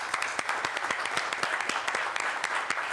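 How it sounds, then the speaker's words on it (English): Applause at a Boston City Council meeting: a short burst of brisk, evenly paced clapping from a modest group in a hall, fairly close and moderately loud. "And a round of applause."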